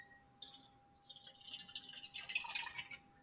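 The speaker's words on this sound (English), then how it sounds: "I'm going to go ahead and pour it in." Room-temperature water is poured into a can for a snack-food calorimetry experiment, making faint, close splashing and trickling in a few short bursts over a few seconds.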